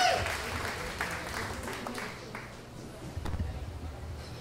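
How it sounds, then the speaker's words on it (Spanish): A live audience in Ciudad Juárez applauds for Israel Herrera at a comedy event, a moderate wash of clapping that fades slightly and swells again near the end, with no talk over it. "Un aplauso para Israel Herrera."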